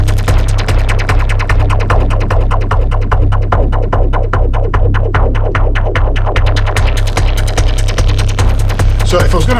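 A Digitone 2 synthesizer plays a rapid pulsing sequence with echo and LFO modulation, a steady low throbbing drone under dense repeating plucks, loud and continuous throughout.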